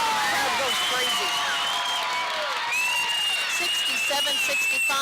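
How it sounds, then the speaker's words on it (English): A high school basketball crowd at a boys' game between Snowflake and Blue Ridge roars with sustained cheering, whoops and applause after a made free throw, loud and continuous throughout, with a commentator's voice running underneath. "Crowd goes crazy."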